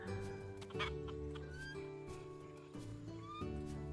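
Chickens cluck in a pen in the farming video game Travellers Rest, steady soft calls over looping game music, with brief chirps and animal sounds layered on top.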